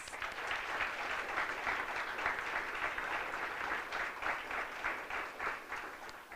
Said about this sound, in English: Let's give one last round of applause for our upcoming senator-elects.